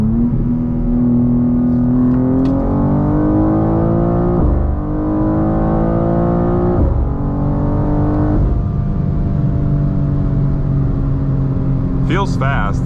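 A tuned BMW G87 M2 pulls hard through a rolling acceleration from 60, its engine note climbing steadily in pitch with brief dips at gear shifts, loud and close from inside the cabin, with a brief voice near the end.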